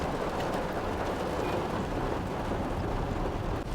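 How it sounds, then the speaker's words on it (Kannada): Heavy rain comes down suddenly on a Bengaluru street, giving a dense, steady broadband roar that fills the whole clip close up with no voices over it. "ಒಂದು ನಿಮಿಷದ ಹಿಂದೆ ಮಳೆ ಇರಲಿಲ್ಲ ಸಡನ್ನಾಗಿ ಮಳೆ ಬಂದ್ಬಿಡ್ತು"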